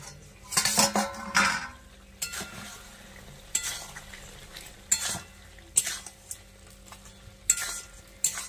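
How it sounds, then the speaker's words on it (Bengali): Goat head meat being stirred and sautéed in a metal pan, a spoon scraping and clanking against the pan in repeated irregular strokes over a soft sizzle, close and fairly loud. "এবারে মাংসটা ভালো করে কষিয়ে নিতে হবে।"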